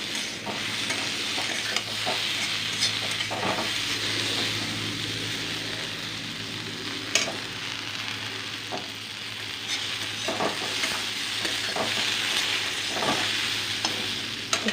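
Okra being stir-fried in a pan for a sour okra curry, a steady close sizzle with scraping stirs throughout, no voices.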